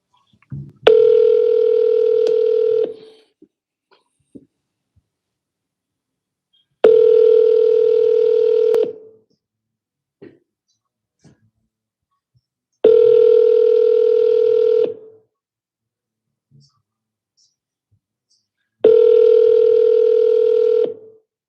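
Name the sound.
telephone call ringing, calling a Zillow listing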